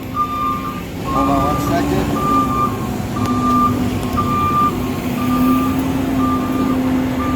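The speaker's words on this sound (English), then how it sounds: "Trash truck going by." Regular reversing beeps from a garbage truck repeat steadily over a low engine rumble in the Kern River Valley, Southern California, while a person speaks briefly nearby.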